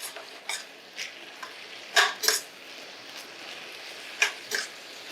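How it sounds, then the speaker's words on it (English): Rapini is stirred in a hot frying pan with a splash of water, giving a faint steady sizzle broken by a few soft scrapes and clinks of the utensil against the pan. "Give it a quick stir."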